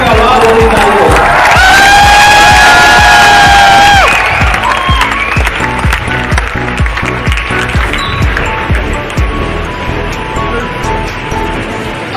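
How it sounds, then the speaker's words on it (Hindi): Loud crowd cheering and applause at a motivational education seminar in Udaipur, starting with sustained shouts and whoops, then settling into rhythmic clapping that carries on for several seconds. "तो नवाचारों के जनक, युवाओं के प्रेरणा स्रोत मेरे बब्बर शेर डॉक्टर निर्मल गहलोत का एक बार जोरदार तालियों से स्वागत कीजिए।"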